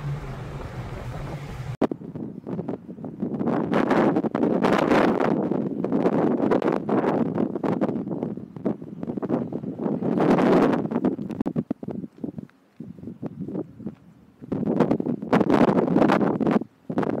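Strong wind buffeting a microphone at the seaside in Fleetwood on a sunny day, loud rumbling gusts that surge and drop over and over, close and dominant, with brief lulls between blasts.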